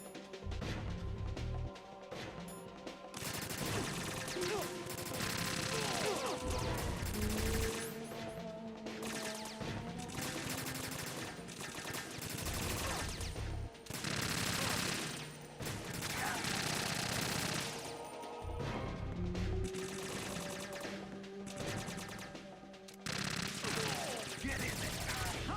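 Sustained bursts of gunfire and crashing impacts in Metal Gear Solid 2, loud and continuous with brief gaps between volleys, mixed with game music and effects.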